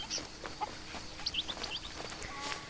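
Clucking chickens in the video game Alba: A Wildlife Adventure, short soft clucks and chirps scattered over a steady outdoor ambience with faint birdsong, no speech.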